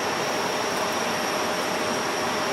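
Steady broadband jet roar from an Air Baltic Airbus A220 lined up on runway 28 at Zurich Airport, a constant distant rumble and hiss with a faint high whine, no voices.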